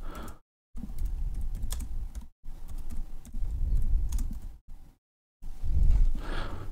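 Keys on a computer keyboard are tapped in quick, close bursts separated by short silent gaps, with a soft dull thump underneath the clicks.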